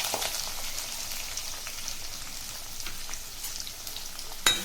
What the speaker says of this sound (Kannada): ಇದೆಲ್ಲ ಸೇರಿಸ್ಕೊಂಡು ಫ್ರೈ ಮಾಡ್ಕೊಳ್ಳೋಣ.